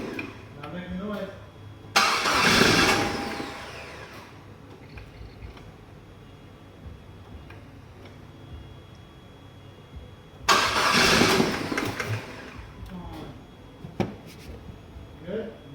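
A 2006 Suzuki Forenza car engine cranks and catches twice, each start a loud burst that settles toward idle, with people talking nearby between the starts.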